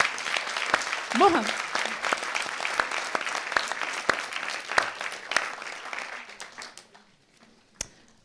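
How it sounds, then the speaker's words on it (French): An audience claps for a doctoral student at a thesis-presentation contest, steady applause with a few sharp louder claps and murmured talk, tapering off to near silence with one last clap. "Vous pouvez l'applaudir, Marie-Charlotte"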